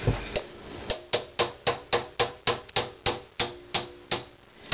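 A hammer pounds on a coconut to crack it open, a rapid series of about a dozen and a half sharp, close knocks, each with a short ringing decay.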